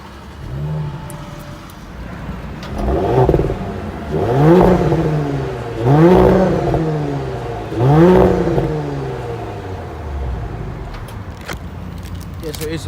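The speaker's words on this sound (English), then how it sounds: "it is quite a nice sounding engine, lots of pops and bangs" A 2018 Audi S5, tuned to about 450 brake horsepower, starts up and is revved four times in a row, each rise and fall sweeping up and back down at close range, with a steady idle between blips and talk in the background.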